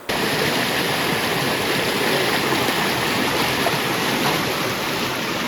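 A river runs through dense Saranda forest near Keonjhar, its rushing water a loud, steady, unbroken roar that fills the whole stretch with no voices.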